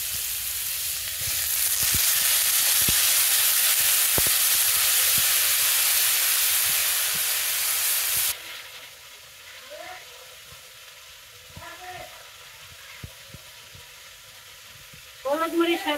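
Oil sizzles loudly in a pan as small fresh fish are fried with spices in a village kitchen. A strong, steady hiss runs for several seconds, then drops to a quieter crackle with occasional clinks.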